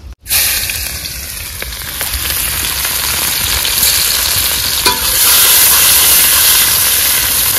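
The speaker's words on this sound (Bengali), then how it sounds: "এবার দিয়ে দেবো মাছের তরকারি বসিয়ে। প্রথমে দেবো পেঁয়াজ কুচি," Chopped onions dropped into hot oil for a Bengali fish curry, giving a loud, continuous sizzling hiss that starts abruptly and swells slightly partway through, with faint stirring scrapes.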